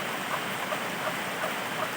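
Steady rain hisses continuously, with faint scattered drops tapping on a surface and no voices.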